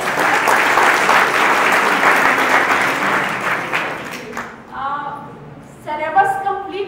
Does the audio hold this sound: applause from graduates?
yes